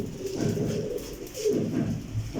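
A female teddy pigeon coos nearby in a low, throaty rolling pattern, two soft phrases heard close up with no talking.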